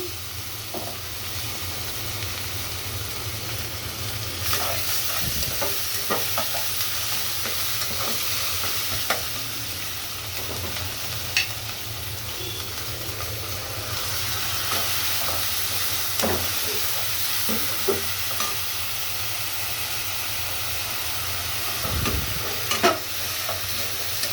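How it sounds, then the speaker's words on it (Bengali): Onion frying with garlic and ginger paste for a spicy chicken bhuna, a continuous close sizzle with repeated scrapes and knocks of a spoon stirring the pan, no talking. "এভাবে আমি পেঁয়াজটা হালকা বেরেস্তা করে নিব।"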